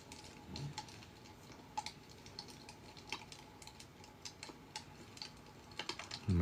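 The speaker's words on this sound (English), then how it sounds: "who's going crazy on the keyboard in the background" Someone types quickly on a computer keyboard in the background of a live drawing session, producing faint, irregular clicks and taps against a low room hum, ending in a louder thump.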